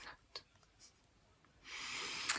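Soft, papery rustling close by, a few light crinkles early on, then a steadier stretch of louder crinkling toward the end.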